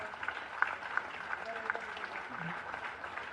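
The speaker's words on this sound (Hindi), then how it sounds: "एक बार जोरदार तालियों के साथ माननीय राष्ट्रीय अध्यक्ष जी का स्वागत।" A political party gathering in Jaipur gives the national president a welcoming round of applause, a faint, distant patter of clapping with a few sharper claps and a murmuring crowd underneath.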